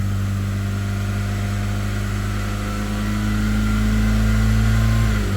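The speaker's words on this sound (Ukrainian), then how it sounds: "ще дамо обертів" A Skoda Octavia 1.6 BFQ petrol engine, leaking antifreeze, is held at raised revs, giving a steady loud drone with strong low harmonics that rises slightly near the end; close up, no talking.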